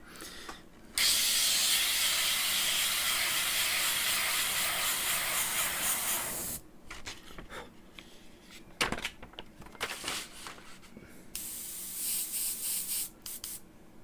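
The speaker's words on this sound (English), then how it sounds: "Spray out some more." A paint sprayer blasts a sustained loud hiss of paint for several seconds, then gives shorter intermittent bursts and quieter hissing with a couple of sharp clicks.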